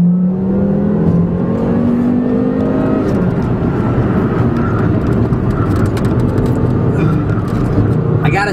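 A Volvo S60 R in sport mode accelerates hard on a highway, its engine note rising steadily through the revs with loud road and wind roar inside the cabin, and a voice talks over it.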